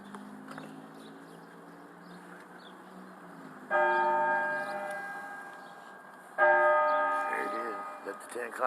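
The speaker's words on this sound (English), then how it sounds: "10 o'clock bell, ain't it?" A church bell tolls the ten o'clock hour during an outdoor street protest, two clear resonant strikes several seconds apart, each ringing out and slowly decaying over a low crowd murmur and faint background talk.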